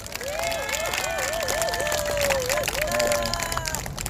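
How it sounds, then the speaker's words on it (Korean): Crowd applause at a political rally in Gwanghwamun Square, a dense, steady wash of clapping with a wavering tone like a whistle or horn drifting above it for about four seconds. "큰 박수 한번 보냅시다"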